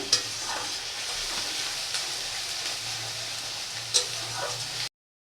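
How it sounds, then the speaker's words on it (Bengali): Ginger-garlic-green chili paste and ground spices cook in hot oil in a pan for soybean kofta curry, giving a steady close sizzle with a couple of sharp stirring scrapes. No one talks. "আদা রসুন কাঁচা লঙ্কা পেস্ট দিয়ে দিলাম এখন গুঁড়ো মশলাগুলো দিয়ে দিলাম দিয়ে খুব ভালো করে কষিয়ে নিতে হবে"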